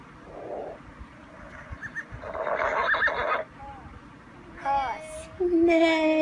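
A horse neighs and whinnies loudly in a few rising, wavering calls toward the end, following a quieter stretch with some clopping and other sounds, as if from a toy or app, with a voice nearby.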